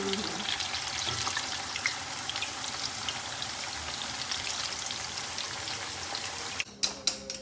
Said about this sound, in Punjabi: ਆਪਣੇ ਕਰੇਲੇ ਚੰਗੀ ਤਰ੍ਹਾਂ ਫਰਾਈ ਹੋ ਗਏ ਨੇ